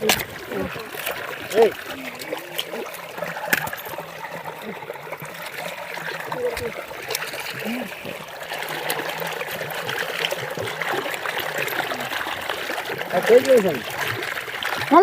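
Tapioca root being washed by hand in water gives soft, uneven trickles and small splashes, with a louder splash near the start and near the end. Voices talk over the water throughout.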